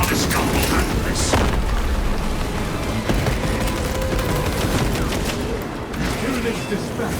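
A servo harness gun firing in Space Marine 2, producing a dense, loud barrage of booming shots and mechanical clatter that runs throughout amid heavy battle noise.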